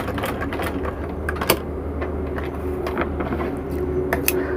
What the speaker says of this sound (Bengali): এই দেখুন আমি সেলাই করতেছি